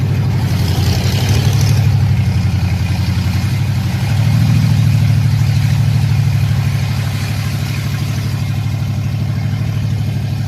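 A loud, raw car engine with no exhaust, running straight off the header pipe, idles steadily with a rough, throaty rumble, rising briefly as it's revved lightly, then settling back to a low drone.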